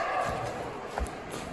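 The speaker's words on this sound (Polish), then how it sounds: "w oddali, te odgłosy to są małpy." Howler monkeys call from far off in the Mexican jungle, a low, hoarse roaring drifting faintly through the trees beneath the steady rustle of the forest.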